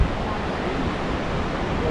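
Water at Snoqualmie Falls rushes in a steady, loud broadband roar heard from nearby, continuous and unbroken, with a faint voice beneath.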